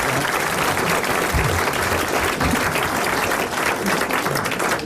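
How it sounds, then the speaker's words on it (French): Studio audience of a 1980 French TV game show applauding a contestant, thick sustained clapping from a large crowd, loud and unbroken throughout. "Vous applaudissez quand même, monsieur Chazot d'Alençon."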